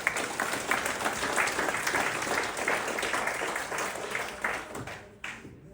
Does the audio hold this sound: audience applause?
yes